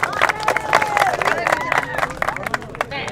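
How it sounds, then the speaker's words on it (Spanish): Applause and cheering from a crowd celebrating the new queen of a 2013 inter-ethnic football tournament in the Paraguayan Chaco, steady clapping mixed with crowd babble and voices talking over it. "¿Y el aplauso?"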